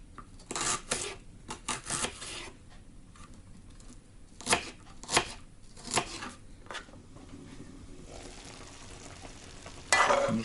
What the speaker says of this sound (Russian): пусть жарится на большом огне